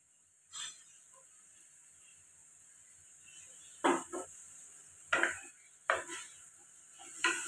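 Onion, greens and tomato hit a hot pan and get stirred, giving a few sharp sizzling bursts and scrapes separated by quiet gaps, close but fairly soft.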